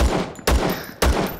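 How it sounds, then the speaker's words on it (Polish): Gunfire from a newly built rifle in the video game Zero Sievert: three loud, sharp shots about half a second apart, each with a brief decaying tail, and no talk over them. "3 strzały i po gościu."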